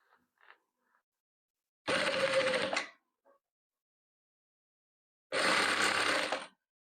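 Two separate bursts of a sewing machine stitching patchwork quilt pieces, each lasting about a second, with a quiet pause between them and faint small clicks around them.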